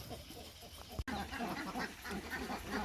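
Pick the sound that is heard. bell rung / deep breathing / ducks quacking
ducks quacking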